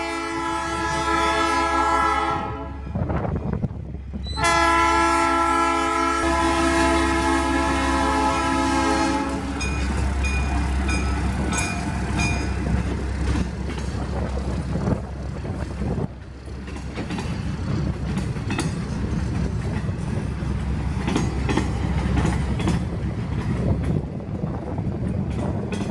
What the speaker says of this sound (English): Elkvalley C630 3440 slowly creeping its way upgrade